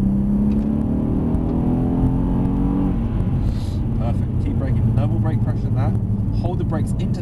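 Mercedes-AMG car on a race track, engine note falling as it brakes into a bend, steady loud engine and tyre rumble throughout with an instructor talking over it.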